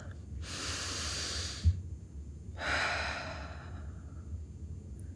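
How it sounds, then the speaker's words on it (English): Two slow, deep breaths, a long airy inhale and then an exhale, close and quiet with a pause between them and no talking. "Take a deep breath"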